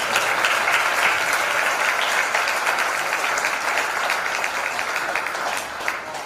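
A church congregation bursts into sustained, loud applause at a worship meeting, steady dense clapping filling the room throughout without a break.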